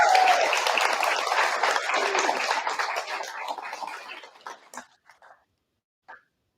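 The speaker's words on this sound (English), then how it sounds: "Everyone, we can give her a round of applause as she makes it up here" An audience at a guide dog graduation ceremony applauds warmly. The clapping is sustained and dense, then thins out to a few scattered claps before stopping.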